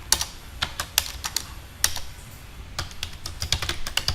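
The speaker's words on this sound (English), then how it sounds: "while I am typing" Rapid, uneven clicks and clacks come from a computer keyboard as someone types while working in Word 2010. The keystrokes are close, steady and unaccompanied by any voice.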